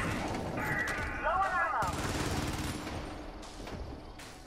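Rapid turret gunfire in the Helldivers co-op shooter rattles in fast, fairly faint bursts amid game noise and whining effects, fading toward the end.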